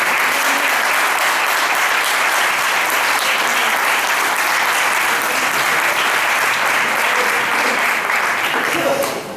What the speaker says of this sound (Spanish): el primer aplauso y fuerte para los músicos